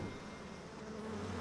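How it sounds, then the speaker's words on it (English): Steady insect-like swarm of bees buzzing in the video game BioShock, a continuous near drone holding level for the whole moment with no voices. "Hey, look at the bees! The bees come out to play again."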